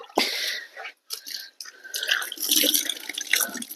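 Water splashes and trickles in short bursts, close by, with brief pauses between pours.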